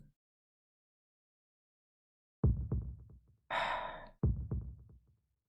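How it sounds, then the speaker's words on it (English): Heavy breathing in the Tsukihime visual novel: after a stretch of silence come several close, breathy sighs and gasps in a loose, uneven rhythm, each fading out. "My breathing grows louder."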